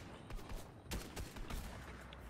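Several bursts of video game gunfire crackle at low volume, quick uneven shots clustered over about two seconds.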